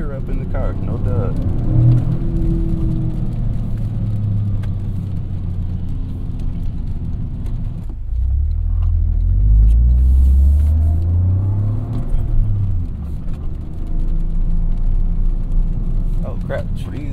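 Toyota GR Corolla engine droning and revving while drifting, heard from inside the cabin as a low, loud, sustained rumble that swells into a heavier surge midway, with people talking over it.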